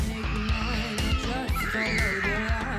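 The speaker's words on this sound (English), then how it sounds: "That is the sound of fact. The sound of a crying child." A child cries loudly and close at a wildlife park, wavering wails running continuously with no pause for several seconds.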